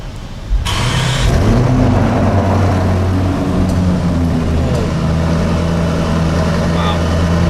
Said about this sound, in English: Let's see what this engine and exhaust sound like.